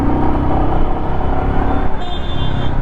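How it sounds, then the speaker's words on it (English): A Royal Enfield Meteor 350 motorcycle engine hums steadily while riding. The tone is smooth, constant and loud, mixed with wind and road rumble, and has no clear rhythm. "That doesn't sound like a Royal Enfield."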